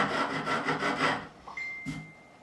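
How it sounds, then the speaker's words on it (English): A coarse file rasps over the ends of guitar frets on a Music Man Silhouette during a refret, several quick rhythmic strokes up close, then a faint scrape and a brief squeak. "I'm beveling the ends of these frets. Using quite a coarse file."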